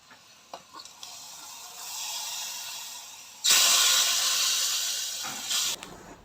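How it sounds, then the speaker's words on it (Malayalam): Mustard seeds frying in hot oil with asafoetida added for a sambar tempering, giving a steady close sizzle that suddenly swells to a loud, bright hiss midway and then eases off, with a few small clicks and no voices. "ഞാനിപ്പോൾ കടുക് വറുത്ത സമയത്താണ് കായപ്പൊടി ചേർത്തത്."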